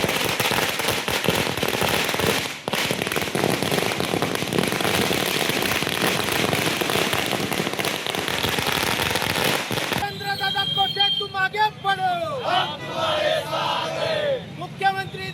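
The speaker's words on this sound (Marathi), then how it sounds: "फटाके फोडून आणि एकमेकांना मिठाई भरवून नागरिकांनी आनंद व्यक्त केला।" Firecrackers burst in a street celebration: a dense, loud barrage of crackling pops fills the first part, then scattered sharp bangs and fizzing whistles follow, with crowd noise and cheering voices around them.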